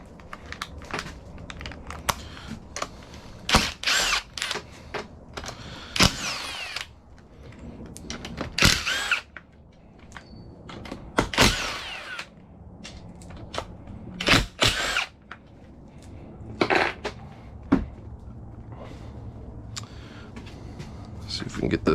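A power tool removes bolts from a 231 transfer case on a Jeep Comanche during a rebuild, firing in repeated short bursts of whirring and rattling between handling noises, with talk in between.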